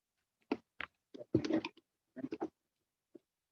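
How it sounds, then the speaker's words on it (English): Scattered rustling and clicking bumps of someone shuffling about near a call microphone during a druids' winter solstice ritual gathering, arriving in short irregular bursts against near silence. "We can hear you shuffling."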